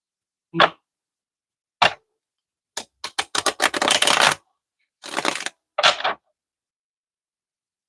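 Several crisp bursts of tarot cards being riffled and snapped, spaced out with silent pauses, one longer flurry in the middle, close and fairly loud.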